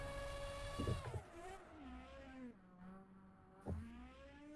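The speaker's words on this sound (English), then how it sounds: "There's our champion doing the donuts, blowing up that engine." A Formula 1 race car engine in a sim racing game revs and drones while the car spins donuts at Monza, pitch sliding up and down continuously, with sharp rev bursts near the start and end.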